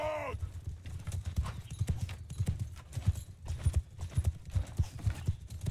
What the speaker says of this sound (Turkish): Benim at çok yavaş. Atı beğenmedim.